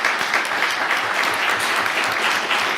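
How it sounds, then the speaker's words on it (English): Steady applause from an audience at a college board of trustees meeting, a dense, even patter of many hands clapping at once, moderately loud and continuous. "Can we give a round of applause to all the people?"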